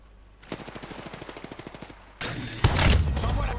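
Rapid automatic gunfire in the Apex Legends video game: a steady burst of evenly spaced shots, then a louder, denser barrage of overlapping fire and impacts, close and loud.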